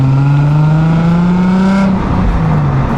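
A car engine revs hard and climbs steadily toward 7000 rpm, loud and close with a rising whine, then drops off sharply near the end as the revs fall away.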